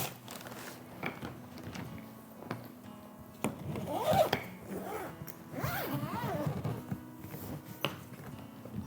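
A zipper being drawn closed around a packed travel suitcase, with scratchy bursts of zipping and handling noise at close range, fairly quiet and without speech.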